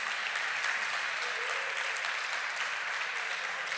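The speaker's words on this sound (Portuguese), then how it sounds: "Dá uma salva de palmas aí para Jesus." A church congregation at Igreja Redil gives a round of applause for Jesus during a Sunday service, with a thick, even wash of clapping sustained throughout at moderate loudness.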